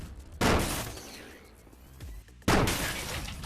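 Two sharp bursts of enemy gunfire in the Rec Room Jumbotron Quest, each a sudden loud crack with a crunchy, shattering edge, separated by about two seconds of quieter ambience.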